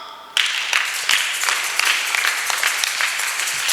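A church congregation at a Sunday gathering breaks into applause, a dense burst of many hands clapping that swells and holds steadily, with no one speaking over it.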